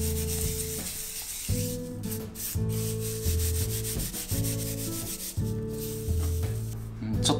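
Dried zinnia seed heads are rubbed between hands to strip away chaff, a close, steady dry rustling and scratching in repeated strokes with brief pauses, and no talk.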